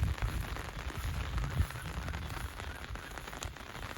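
Continuous rain pattering down outdoors on a rural Thai property, a broad steady wash of drops at moderate loudness, heard alone without voices.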